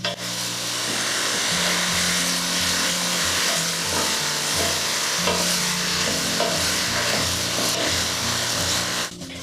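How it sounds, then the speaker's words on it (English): Apples and raisins sizzle steadily in hot oil in a pan while being stirred, a continuous loud frying hiss with scraping utensil sounds throughout and no talking. "You stir a lot so that the apples get completely coated with the oil."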